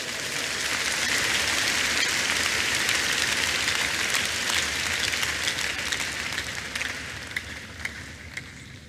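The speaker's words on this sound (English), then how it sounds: "Give the Lord the biggest clap offering, everybody." A church congregation gives a clap offering during a sermon on prayer and fasting: dense, continuous applause like steady rain, loud and sustained throughout, easing slightly toward the end.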